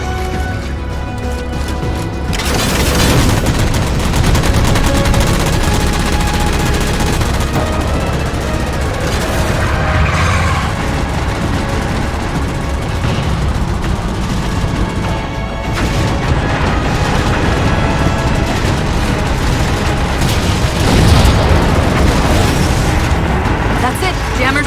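Heavy gunfire and repeated explosions from a Halo battle against jammers, booming blasts and crackling shots layered into a loud continuous barrage, with voices speaking over the combat.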